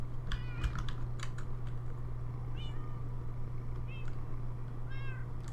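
A cat meows several times at a bedside at home, short rising calls scattered over a steady low hum and soft background noise.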